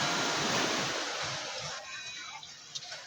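Sea waves breaking and washing in, a loud rushing surge that fades into softer trickling and small splashes over about three seconds, close by.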